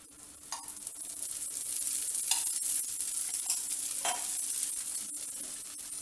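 Keerai dosa batter made with mudakathan greens sizzles steadily on a hot pan, a continuous hiss broken by a few brief crackling bursts, close and moderately loud with no talking.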